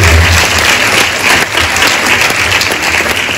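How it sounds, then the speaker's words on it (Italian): A theatre audience at a cultural event in Cervia, Italy, gives a loud, sustained round of applause, thick and continuous clapping from a large crowd close by, with no speech over it. "vi chiedo un grande applauso per il Comune di Cervia"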